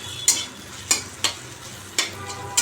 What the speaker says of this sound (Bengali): কুমড়ো নিম পাতা ভাজা কড়া করে দিয়েছি একদম